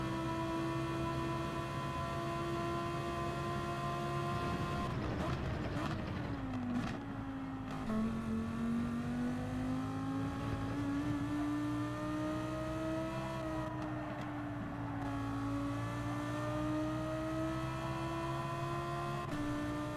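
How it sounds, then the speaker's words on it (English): A Lamborghini Huracan racing in Gran Turismo 7 holds a steady high engine drone, dipping briefly on shifts and lifts before climbing again, sustained and close with no talk. "I'm using the Lamborghini Huracan."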